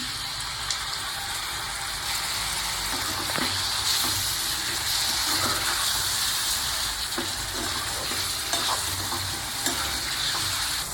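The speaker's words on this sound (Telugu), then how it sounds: "ఇలా పేగిన తర్వాత ఇందులో పెరుగు వేసుకుందాం." Yogurt is added to a frying chicken leg curry masala, giving a steady hissing sizzle with scattered soft pops and spoon scrapes throughout.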